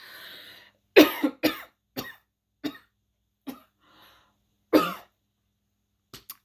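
A series of sharp coughs, several in quick bursts then spaced out, close and fairly loud with quiet gaps between, no talking.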